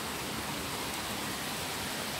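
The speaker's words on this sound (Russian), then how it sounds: "Глянула в окошко, дождь идет." Steady rain falls outside a window on a summer day, a continuous broadband hiss with no distinct drops, moderately quiet and unbroken throughout with no voices.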